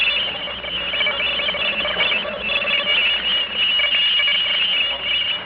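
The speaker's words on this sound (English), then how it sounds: "The next sound you hear is coming from outer space." An eerie radio drama sound effect of a message from outer space: a continuous warbling, shrill electronic tone with crackling static, steady and fairly loud throughout.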